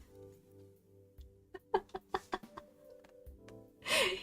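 Chickens in the farming game Stardew Valley give a run of short, quick clucks, several sharp pecks of sound in a row over a low steady hum of game music, with a brief louder burst at the end.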